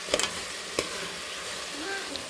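Chicken stirred with salt and chilli in a hot pan, a few sharp scraping strokes of a spoon against the pan over a continuous low sizzle of frying.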